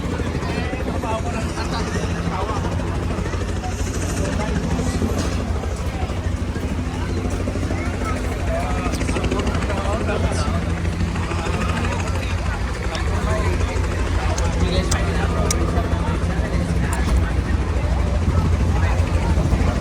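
Helicopter ride over a fair at the Red River Ex, with a steady loud rotor and engine drone throughout and continuous chatter from people nearby.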